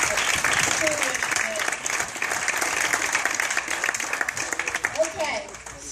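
Audience applause at a Hudson Valley Ride for Kids charity event, a steady wash of many hands clapping that carries on for several seconds, with a voice briefly audible near the end.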